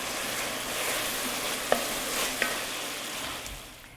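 Onions, garlic and ginger sizzle steadily in a soup pot, a continuous broad frying hiss with a couple of brief stirring clicks, close and moderately loud with no talking.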